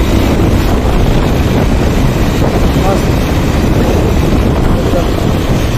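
Steady, loud wind buffeting the microphone during a motorbike ride on an open road, a continuous broadband rush with no break for the whole stretch.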